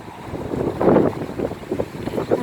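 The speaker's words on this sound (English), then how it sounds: "that wind just blew right up" Wind gusts suddenly across an outdoor waterside spot where ducks and geese are being fed bread, a broad rushing swell that peaks then buffets the microphone in rougher bursts, with no talk.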